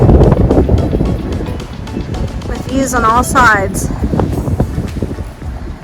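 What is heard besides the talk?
strong wind blowing on ridge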